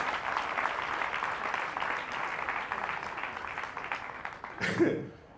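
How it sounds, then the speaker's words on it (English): An audience at a talk gives volunteers a sustained round of applause, a thick wash of clapping that stays even before cutting off sharply near the end, where a brief voice is heard. "Give our volunteers a huge round of applause"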